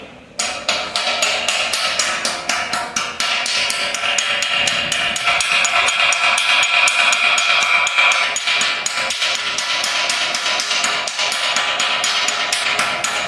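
Steady, rapid metallic hammer blows as nipples are driven onto a vapor line, each strike sharp and close, repeating almost without pause throughout.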